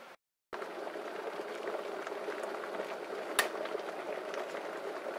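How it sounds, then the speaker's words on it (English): A kettle of water reaches a full boil and gives a steady, close, rumbling bubble and hiss after a brief cut at the start. One sharp click or tap is heard partway through. "You want a nice hot, freshly boiled kettle."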